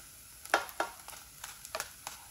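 Crispy battered food frying in a pan, heard up close as faint crackles and a few sharp pops over a low steady sizzle, with no one talking.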